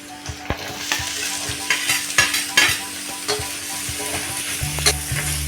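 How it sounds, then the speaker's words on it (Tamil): Cut ginger sizzles as it is sautéed in a pan while a spoon stirs and scrapes it, giving irregular close clinks over a steady frying hiss. "இதை நல்லா பச்சை வாசனை போகிற வரைக்கும் வதக்கிக்கணும்."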